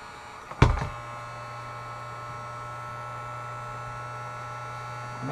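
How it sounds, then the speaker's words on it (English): A heat gun warms the edges of a skin fitted over headgear, starting with a sharp click and then settling into a steady, even hum and airy blow that holds unchanged to the end. "start heat gunning the edges"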